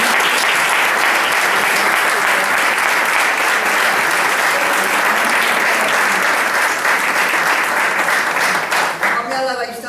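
A conference audience breaks into sustained, loud applause, a dense wash of clapping that holds steady for about ten seconds before thinning out, with some voices underneath.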